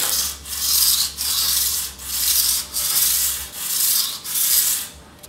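Part of a Supra X 125 R motorcycle being rubbed with 100-grit sandpaper by hand in long, even back-and-forth strokes, six or seven rasping passes close up with brief pauses between them and no talk.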